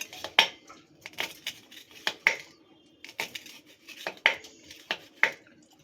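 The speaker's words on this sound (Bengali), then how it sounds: "এই কাঁচা লঙ্কাগুলোকে এবার কুচিয়ে নিচ্ছি" Green chillies chopped with a knife for jeera aloo, a run of sharp, close knife taps on a board at an uneven rhythm, several strokes grouped together with short pauses between, with no talking.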